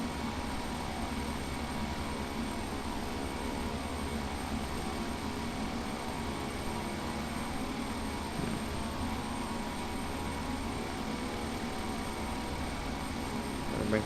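Simulated airliner engines droning as an aircraft comes in to land in Microsoft Flight Simulator X, a steady broadband jet roar with a faint high whine, unchanging throughout and with no talk.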